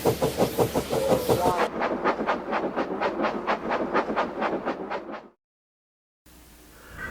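Thomas the steam locomotive puffs along the track in a steady, rhythmic chuff of regular exhaust beats that gradually fade out, followed by silence.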